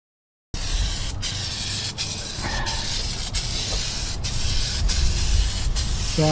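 Aerosol can of Amsoil Mudslinger undercoating sprayed onto a truck skid plate beneath a Bronco, a steady close hiss broken by brief pauses and bursts, with no talking.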